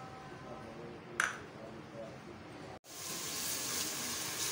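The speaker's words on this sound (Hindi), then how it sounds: "लहसुन अदरक को अच्छी तरह से भूनें" Garlic ginger paste frying in hot oil over a raised flame for beef nihari, a steady broadband sizzle with one sharp ping, then a brief cut and a louder, denser hiss.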